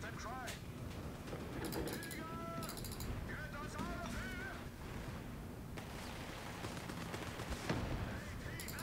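Battlefield gunfire in the strategy game Company of Heroes 3, North Africa campaign: scattered shots and bursts crackling at middle distance under steady rumble, with speech and whistling tones mixed in.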